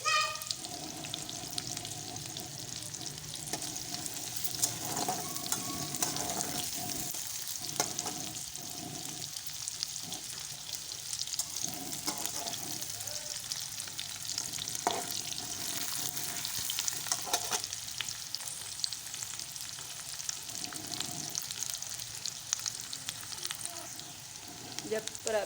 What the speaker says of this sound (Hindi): साथ साथ कभी चलाते जाएंगे ताकि ये प्याज जो है वो साइड से जले ना।